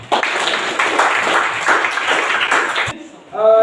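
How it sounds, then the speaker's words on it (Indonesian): Students in a school classroom applaud a classmate, a steady burst of many hands clapping for about three seconds before it stops and a voice begins. "Kita memberikan aplaus kepada"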